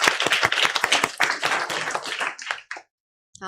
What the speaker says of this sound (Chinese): 好，我们拍手，谢谢他们的呈现